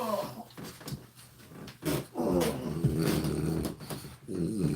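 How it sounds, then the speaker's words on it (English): A French bulldog growls and grumbles close by in a steady, rumbling run, with a few short breaks and sniffly noises between stretches. "This is one of my Frenchies."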